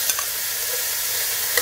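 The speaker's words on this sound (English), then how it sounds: "I'm going to stir fry this for the next" Garlic, onion and ginger stir-fry in a hot pan with a steady broadband sizzle, the spatula scraping and clicking faintly a few times through it.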